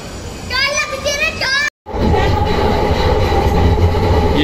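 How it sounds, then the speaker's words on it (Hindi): Delhi metro train at a station: a loud, continuous rolling rumble and rush fills most of the stretch, after an opening moment of a child's chatter and a brief cut. "ये मेट्रो स्टेशन है"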